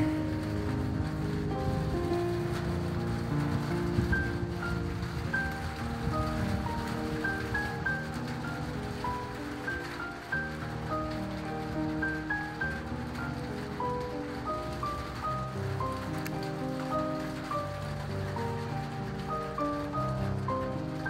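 Heavy rain with big drops pours down in cold weather, a dense, steady hiss that fills the whole stretch. Tonal music plays over it throughout, and no one speaks.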